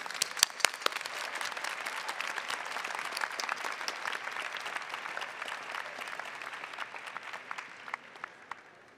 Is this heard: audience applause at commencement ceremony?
yes